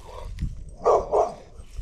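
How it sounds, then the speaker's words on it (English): A dog barks outdoors at a fishing spot, two quick moderately loud woofs close together, heard a short distance away with no talking. "sicking the dog on me"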